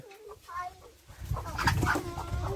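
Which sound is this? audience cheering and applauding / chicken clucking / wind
chicken clucking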